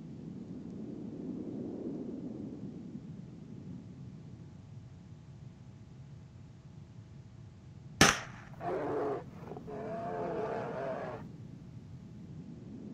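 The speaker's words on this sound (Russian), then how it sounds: "Отличный выстрел!" A sharp, loud tranquilizer dart shot cracks out in the horror adventure game Alpha Polaris, a single abrupt report followed by brief rattling echoes after a long stretch of quiet low ambience.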